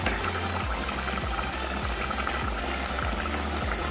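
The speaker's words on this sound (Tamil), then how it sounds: "இப்போது ஃபிஷ்ஷு வந்து பாயில் ஆகிருக்கு, 5 minutes பாயில் ஆகிருக்கு" Fish simmering in a South Indian homemade fish curry: steady, close bubbling and popping with a continuous busy texture from start to finish, with no voices.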